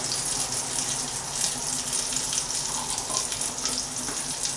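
Pepper sauce poured from a pan into a serving jug, a continuous close liquid rush and spattering hiss that holds steady throughout, with no talk.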